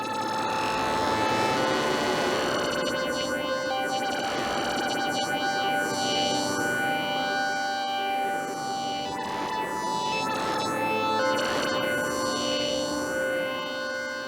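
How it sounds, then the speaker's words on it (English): Continuous synthesizer drone from a Moog Spectravox and Subharmonicon, with squelching, filter-swept tones that sweep up and down in repeating waves, thick and buzzy throughout with no voices. "that's why you hear these kind of, I guess, squelching in and out kind of tones"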